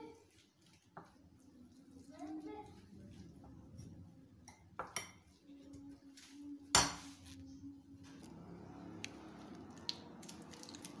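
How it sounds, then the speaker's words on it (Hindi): Potatoes mixed with spices being mashed in a bowl, giving soft, irregular squishing and scraping with a few sharper utensil knocks against the bowl, close and fairly quiet. "अब इनको मैं अच्छे से मैश कर लूँगी।"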